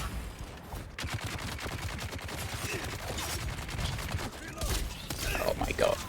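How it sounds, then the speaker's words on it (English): Shotgun blasts fire in rapid succession in a video game, a dense run of sharp bangs almost like a machine gun, with a voice talking over part of the barrage. "Those shotguns, man. Like, he can fire them like a machine gun"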